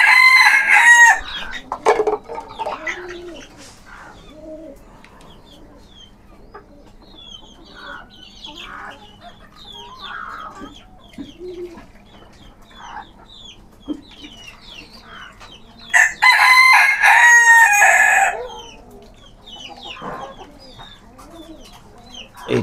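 Backyard flock of silky hens and desi chickens with a fighter-cross rooster: steady clucking and chattering throughout, with two loud, close rooster crows near the start and again later.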